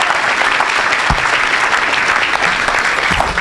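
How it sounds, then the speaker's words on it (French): A church congregation applauds and acclaims in worship. Steady, dense clapping fills the hall from start to finish, with a few louder claps standing out near the front. "acclame encore une fois de plus."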